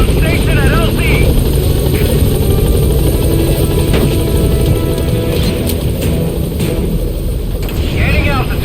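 The B-Quad support helicopter hovers on station at a landing zone in Metal Gear Solid V. Its loud, continuous rotor and turbine roar fills the scene while a voice speaks over the top.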